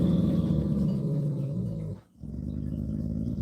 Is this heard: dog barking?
yes